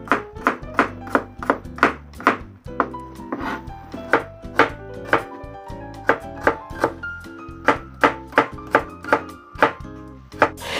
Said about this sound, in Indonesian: bawang merah dan bawang putih, yang cukup dirajang saja seperti ini ya